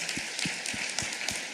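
A church congregation at a conference gathering applauds, a steady wash of clapping with no voices on top, moderately distant and fairly faint.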